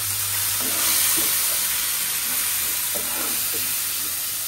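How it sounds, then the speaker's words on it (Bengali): Tomato and ginger garlic paste added to fried onions in a pan, a loud steady sizzle with intermittent spoon scrapes and stirring. "পেঁয়াজটা ভাজা হয়ে গেছে, বোঝা যাচ্ছে না তাই। এখন আমি দিয়ে দিচ্ছি 3 রকম জিনিস, টমেটো, আদা রসুন বাটা"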